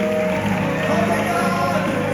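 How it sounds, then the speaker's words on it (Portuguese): Church congregation applauding during a Portuguese-language pastoral ordination service, steady clapping from a crowd that fills the whole moment, with organ or keyboard tones and voices mixed underneath. "Aplauda ele, igreja."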